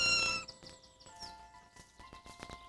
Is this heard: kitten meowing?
yes